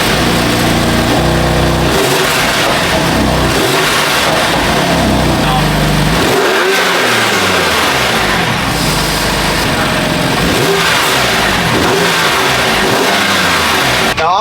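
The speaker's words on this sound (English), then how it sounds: "Now obviously revving it, you won't hear a huge difference." A BMW F81 M3 wagon with open cone intakes is revved hard, its engine rising and falling through repeated sweeping revs over a loud continuous drone, close to the mic, with voices mixed in.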